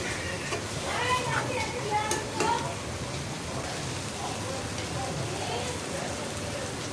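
Green chilies dropped into a pan of cooked-down spice paste for rohu fish curry, giving a steady sizzling, rain-like hiss throughout, with a voice speaking over it near the start.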